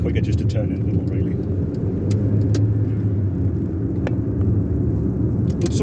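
A 2006 Ford Ka drives along town roads, its engine and tyres making a steady low rumble from inside the car, with a few faint clicks and knocks over the top.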